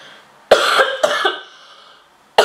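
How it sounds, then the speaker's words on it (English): A woman coughs in three sharp, close bursts: two quick coughs in a row, a pause, then another cough starting at the very end, with no talking in between. "I didn't have this cough before and all of a sudden I'm coughing"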